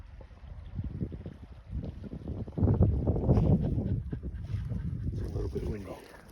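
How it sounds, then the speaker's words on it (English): Wind gusts through woods during a microburst storm, a low rumbling buffeting against the microphone that swells and eases over several seconds, with faint rustling and occasional creaks. "It's a little bit windy."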